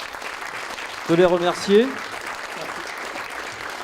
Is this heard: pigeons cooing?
no